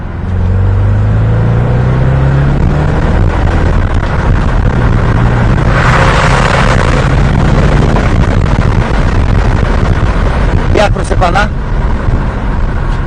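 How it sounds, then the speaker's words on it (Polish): BMW 645i E63 with an N62 V8 drives through a small tunnel, its exhaust a continuous loud droning rumble throughout, with a rising whoosh midway and brief higher squeaks near the end; people talk over it at times. "jedziemy przez taki mały tunelik, żebyście usłyszeli jak brzmi wydech"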